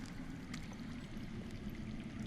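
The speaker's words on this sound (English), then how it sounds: "That's water. I hear water. From underground." Underground water in the Game of Thrones Telltale video game flows with a faint, steady gurgling rush and soft splashing trickles, continuous and distant with no other sounds.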